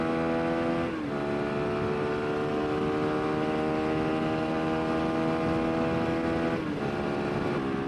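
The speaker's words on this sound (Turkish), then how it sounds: "Şimdi tapa gaz gidiyorum." A CF Moto NK250 motorcycle runs at full throttle with a loud, steady, high-revving engine whine, its pitch dipping briefly twice as gears shift before climbing again.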